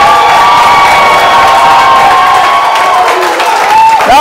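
Church congregation cheering and applauding to acclaim the Lord, a loud, close roar of voices with shouts and clapping, with sustained raised tones and a rising whoop near the end.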